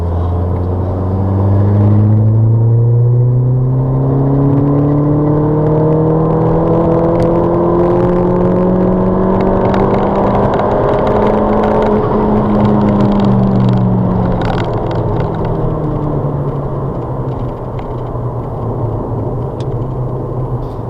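Ford Fiesta ST with an RT330 conversion coasting on a race track to cool down, its engine a loud steady drone with slowly sliding pitch and a continuous low rumble throughout.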